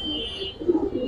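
A male pigeon of a silver pangkhi military breed gives a short, close coo that swells briefly in the second half of a one-second moment.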